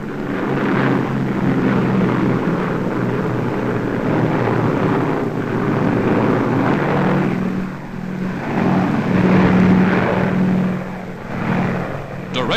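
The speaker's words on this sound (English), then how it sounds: "The transports are escorted by squadrons of fast P-38s, American fighter planes." A loud, continuous engine drone of propeller aircraft, transports escorted by P-38 fighter planes, roars throughout, rumbling and swelling slightly, with a hum of rotating blades.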